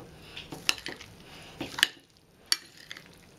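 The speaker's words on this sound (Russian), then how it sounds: "Перемешиваем наш салат" A salad dressed with mayonnaise being tossed in a bowl, with soft wet stirring punctuated by several sharp clinks of a utensil against the dish, close by and without speech.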